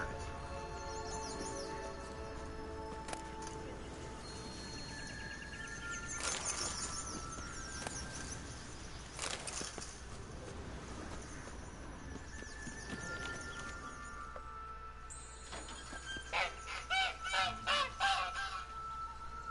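A caged hen in The Witcher 3 clucks in short, soft bursts that cluster toward the end, set against quiet game ambience with some talking.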